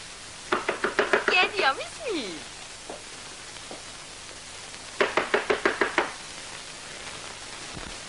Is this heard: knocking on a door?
yes